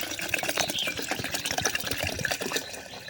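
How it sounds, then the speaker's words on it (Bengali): Water poured into a jar of amla, a continuous close gushing and splashing fill with bubbly gurgles, steady throughout the short stretch. "পুরো গলা ভর্তি করে আমরা এর মধ্যে জল দিয়ে দেবো।"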